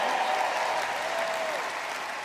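Audience applauds at a live Grand Ole Opry show in London, a broad, steady wash of clapping with faint crowd murmur.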